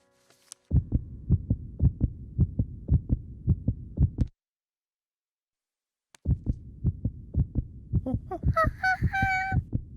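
Cartoon scene: steady, fast heartbeat thumping through a stethoscope, stopping for a couple of seconds, then resuming as a higher honking, squeaky sound joins in.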